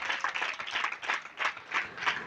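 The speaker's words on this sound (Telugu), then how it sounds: "గట్టిగా ఒకసారి చప్పట్లు కొడదాం" A congregation at a village Christmas celebration claps in unison. Bursts of clapping come in a fairly regular rhythm, slightly distant and modest in level.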